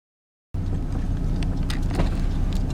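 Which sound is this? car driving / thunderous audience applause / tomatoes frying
car driving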